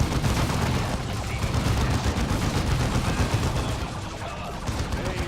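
Dense, continuous gunfire fills a battle in the strategy video game Dawn of War II, with rapid overlapping bursts and shots at close range.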